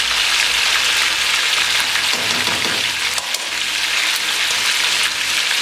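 Yakhni chicken pieces dropped into a hot pan with ginger-garlic paste, giving a loud, dense, continuous sizzle close by that persists without any voices.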